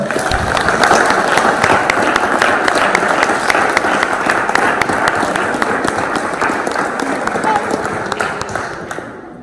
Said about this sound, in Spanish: Un fuerte aplauso, hermanos